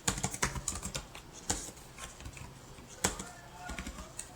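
Typing on a computer keyboard, with rapid, irregular key clicks close by and short bursts around pauses, including a few louder keystrokes, heard alone without talk.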